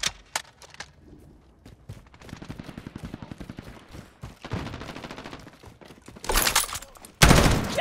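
Gunfire in Call of Duty Modern Warfare: bursts of fusillade and machine-gun fire in rapid rhythmic volleys, with a couple of loud, close blasts near the end.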